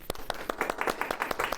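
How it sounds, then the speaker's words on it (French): Short burst of audience applause in a school presentation setting, a few scattered hand claps in quick irregular rhythm, close and fairly brief, with no talking. "Je vous prie de les applaudir."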